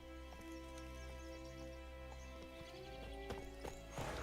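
A horse gallops in a video game, rhythmic clip-clop hoofbeats over a steady low game ambience with tonal hum, ending in a brief louder burst, all fairly faint.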